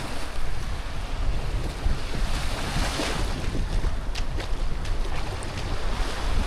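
Strong, steady wind blowing across the microphone at a Playa del Carmen beach, a continuous loud buffeting rush with surf mixed underneath and no voices.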